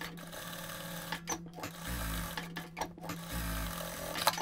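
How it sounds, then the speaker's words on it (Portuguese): Sewing machine topstitching denim on a jeans dress, a close whirring motor in two sustained runs separated by short pauses and mechanical clicks, no voices. "Vou voltar aqui e fazer mais um pesponto"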